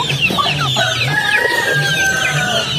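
Clucking chickens, broilers kept alongside a guinea fowl on a native chicken farm, give repeated low clucks with a few higher calls over steady yard noise, close and fairly loud throughout.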